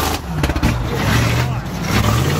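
Car engine revving for a burnout at a Christmas burnout callout: a loud, close engine roar with rising revs and rough bursts, continuing throughout, mixed with crowd noise.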